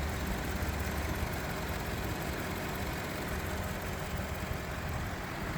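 A steady, low Audi SQ7 engine idle rumbles on without a break, fairly quiet and even throughout.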